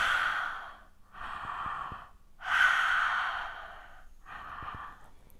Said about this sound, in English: we're going to try and make a like H-A, ha noise, breathing through our mouths a couple of times